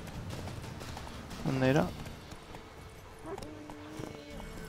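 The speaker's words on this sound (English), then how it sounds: "¡Pero salta, maldito caballo!" Horse in The Witcher 3 video game, a short burst of hoofbeats and a whinny-like sound in the middle of a quiet game scene, with someone speaking Spanish over it.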